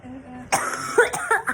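A single sharp cough rings out close to the microphone, followed by a brief throaty rasp.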